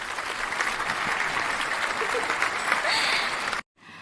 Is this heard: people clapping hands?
yes